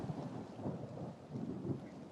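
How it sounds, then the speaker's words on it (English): Low rolling thunder grumbles in slow swells beneath a soft wash of rain, distant and fairly quiet. "There's a little thunder laid in."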